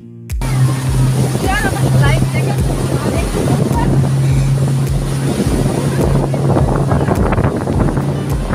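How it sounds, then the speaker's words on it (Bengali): A speedboat bounces hard across the open sea near an island resort, its engine droning under strong wind buffeting the microphone and slapping waves, with people talking aboard. "সমুদ্রের অসম্ভব হাওয়া, আর তার সঙ্গে ঝাঁকুনি, জলের মধ্যে যে স্পিড বোট চলেছে তার যে ঝাঁকুনি"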